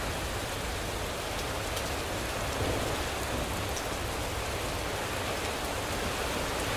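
Steady rain falls during a thunderstorm, an even, dense hiss of drops that holds at a constant moderate level throughout, with no thunder or voices standing out.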